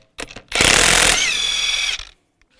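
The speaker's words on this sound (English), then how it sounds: "Use a 22mm socket and take the lug nuts off." A power tool with a 22mm socket spins a lug nut off a Cadillac Escalade wheel in one close, loud burst of about a second and a half, preceded by brief clicks.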